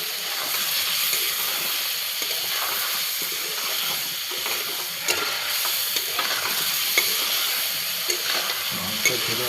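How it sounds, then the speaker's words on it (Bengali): Chicken curry being stirred in a pan after a splash of water goes in, with steady frying sizzle and hiss plus scattered scraping clinks of the spoon, close and continuous throughout. "হালকা করে জল দেওয়ার পরে একটু নেড়ে চেড়ে নিতে হবে।"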